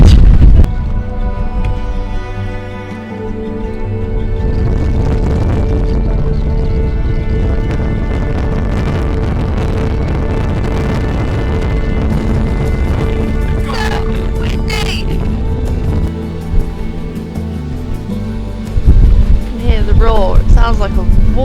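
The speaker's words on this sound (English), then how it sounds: "The roar of the wind over the rocks." A constant, heavy roar of wind buffets nearby over rocks on a winter ridge in the Scottish Highlands, loud and rumbling with gusty surges and a rushing, waterfall-like quality throughout.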